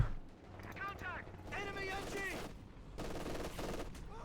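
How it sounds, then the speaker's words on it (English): Machine-gun bursts rip into a rifle squad in the Company of Heroes 2 strategy game, several rapid rattling volleys with a low battle rumble, under a commentator talking. "Machine gun there ripping into the rifle squad there."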